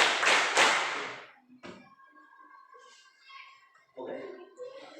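Children in a religious-education classroom clap out a counted pattern, a quick cluster of close claps followed by a single tap, with a teacher's voice and quiet room sound after.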